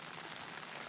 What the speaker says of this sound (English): The problem is it's raining